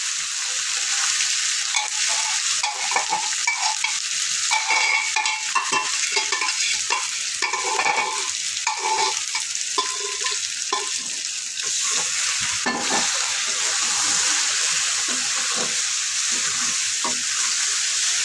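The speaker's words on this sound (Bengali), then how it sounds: "এখন শুধু এখানে একটু ভাজা ভাজা করবো" Spiced, pre-cooked beef tripe sizzles and crackles steadily in a pan with oil, with repeated scraping and stirring strokes throughout. The sound is close and fairly loud and continues without talking.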